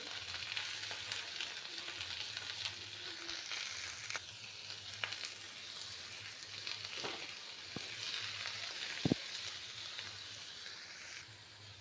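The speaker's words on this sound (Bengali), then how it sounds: "পটলটা এবার আমি ভালো করে ভেজে নিচ্ছি।" Pointed gourd pieces frying in white oil with black cumin in a pan, a steady close sizzle with occasional stirring clicks and scrapes of a spatula.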